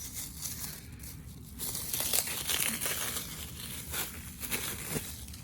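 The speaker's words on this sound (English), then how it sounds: "So I basically just unwrap it." A dry cast wrap is peeled and unwound, giving a steady run of close crinkling and tearing rustles over about five seconds with no talking.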